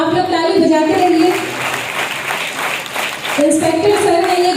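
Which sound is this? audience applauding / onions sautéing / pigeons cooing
audience applauding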